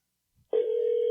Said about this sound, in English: Computer, call 1-800-543-1201.